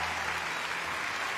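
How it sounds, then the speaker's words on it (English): An audience at a live stage show claps in a dense, steady round of applause that fills the whole clip close and loud, with no speech over it. "You're going to get a round of applause."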